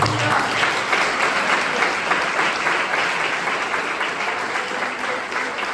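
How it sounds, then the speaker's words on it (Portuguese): A church congregation applauds during a worship service, dense sustained clapping from a large crowd that carries steadily for several seconds at a moderately loud level. "Quem deseja dizimar e ofertar na casa do Senhor, aplauda ele aí"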